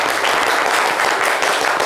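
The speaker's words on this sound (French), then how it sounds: "on peut s'applaudir encore très très fort" Loud, dense audience applause fills a French broadcast studio, a continuous close wash of many hands clapping with no pause.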